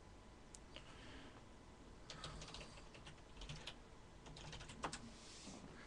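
Quiet keyboard typing, irregular bursts of soft key clicks with short pauses, close by in a hushed room.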